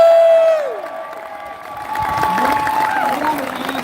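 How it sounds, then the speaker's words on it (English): Crowd at an outdoor gun-rights rally in Richmond claps and cheers, a broad roar of applause and shouts that dips briefly, then swells again, with a tone sounding at the start. "Let's give him a round of applause."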